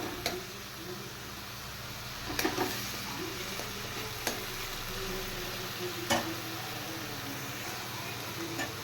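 Capsicum and onion fry in a pan with a little water, giving a soft, steady sizzle with occasional stirring scrapes and knocks throughout.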